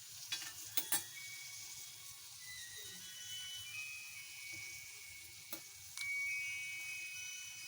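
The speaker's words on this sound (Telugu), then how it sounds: "ఇప్పుడు కరివేపాకు వేస్తున్నాను." Curry leaves drop into hot oil over a frying fish curry, giving a soft steady sizzle with a few sharp crackles and pops, near and alone without talk.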